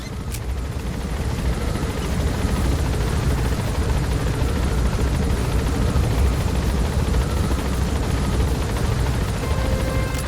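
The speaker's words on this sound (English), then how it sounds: "you can hear the tape that we set earlier as our helicopter music playing through the speakers" A video game helicopter's rotor thrums in a steady, loud, continuous roar in Metal Gear Solid V: The Phantom Pain, with no clear music audible over the engine noise.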